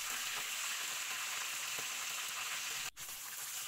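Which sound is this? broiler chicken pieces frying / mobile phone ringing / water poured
broiler chicken pieces frying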